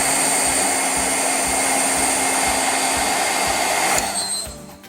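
A heat tool blasts hot air over puff paint on a country home card, a loud, steady whooshing roar that holds throughout and then cuts off and winds down at the end.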